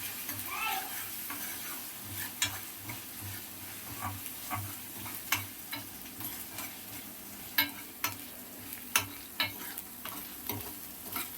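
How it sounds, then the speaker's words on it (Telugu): Ginger garlic paste frying in a pan while egg noodles are prepared, giving a steady soft sizzle with frequent sharp spatters and tapping stir clicks, close and alone without talk. "అల్లం కూడా వేగిపోతుంది"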